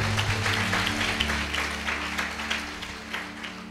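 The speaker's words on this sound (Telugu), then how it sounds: "సరే గట్టిగా చప్పట్లు కదా." A church congregation claps loudly and continuously, a dense wash of hand claps filling the room with a low hum of amplified sound underneath.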